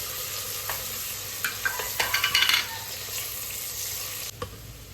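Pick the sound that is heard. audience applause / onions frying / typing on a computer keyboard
onions frying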